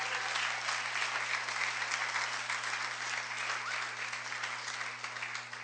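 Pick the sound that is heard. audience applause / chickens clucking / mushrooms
audience applause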